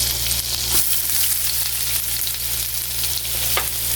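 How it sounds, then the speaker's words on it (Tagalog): Chopped onion frying in melted butter for Filipino macaroni spaghetti, a loud, dense, continuous sizzle right up close with occasional stirring scrapes and no voices. "So, ayan, nagtunaw na yung butter. Then, lagyan natin itong sibuyas."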